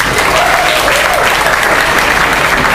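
Loud, dense applause fills a stand-up comedy show crowd in Bali, a steady wall of clapping with cheering mixed in throughout.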